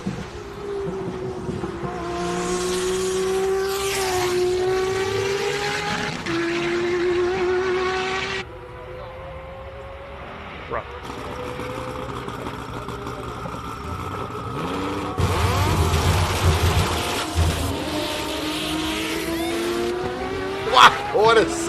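Race cars at a hill climb sweep past one after another with rising and falling engine notes and gear changes, loud and close, while a commentator talks over the passes.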